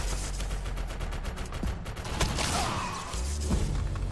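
Rapid gunfire from the shooter video game Defiance, a steady stream of automatic shots with mechanical clatter and occasional heavier impacts, loud and continuous with no talking.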